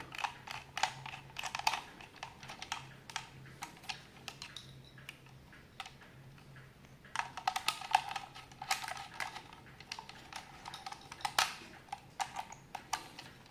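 Buttons being pressed on a Leyden KG316TJ digital timer switch, giving small sharp plastic clicks in quick irregular bursts, close and fairly faint, with a pause in the middle before another run of presses.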